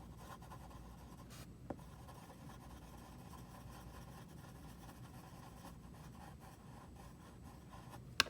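Colored pencil shading in small circles on paper, a faint continuous scratchy rubbing heard up close and quiet, with a low engine-like hum in the background and an occasional soft tap.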